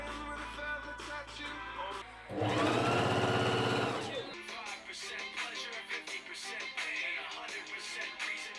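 A sewing machine runs a stretch stitch to hem a ruffled dress, a loud steady whirring burst of about two seconds that stops abruptly, followed by busier background sound.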